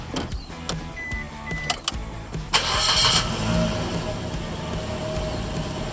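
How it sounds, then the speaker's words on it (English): A Suzuki car engine starts up, a brief burst of cranking catching into a steady running engine with some clicks and clunks around it, fairly close with no talking. "we'll go and start the engine"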